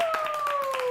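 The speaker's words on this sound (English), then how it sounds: "박수." A small group claps briefly as a band introduces their album. A quick patter of a few claps sounds over a steady sustained tone.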